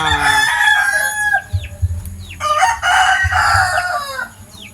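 Several gamecock roosters crow loudly and close by, their calls overlapping, with chickens clucking in between.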